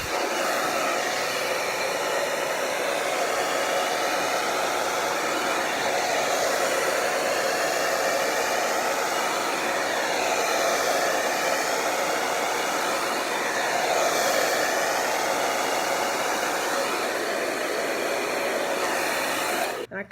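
A handheld hair dryer set to medium heat blows continuously through a blow dry, a loud, steady whooshing roar with slight wavering as it moves, cutting off abruptly at the very end.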